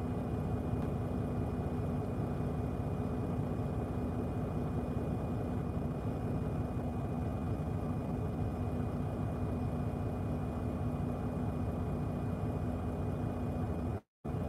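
A truck engine runs at a steady idle, a continuous low rumble with a faint constant hum, close by and unbroken apart from a brief cut near the end, no voices.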